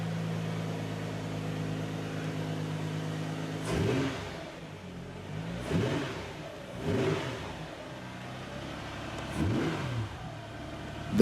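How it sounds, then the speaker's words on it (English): A Toyota Hiace van fitted with an R35 GT-R VR38 twin-turbo engine idles steadily, then gives four quick, throaty revs spaced a second or two apart, each rising and falling back to idle. "The race car-like engine response."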